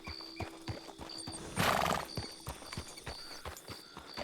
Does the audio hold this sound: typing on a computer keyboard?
no